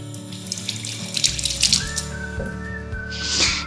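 Water runs from a kitchen tap into a sink while washed food is drained for a Kerala dinner, a steady close splashing with clinks and a brief whistle-like tone, and no speech.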